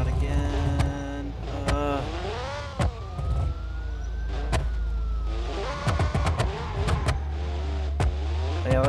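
An old Mercedes in a BeamNG Drive police chase revs up and down with gliding pitch, mixed with wailing sirens and sharp impact thuds, while a voice talks over parts of it.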